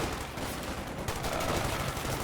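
Machine gun fire in the Company of Heroes video game, a short, dense burst of rapid shots, fairly faint and distant.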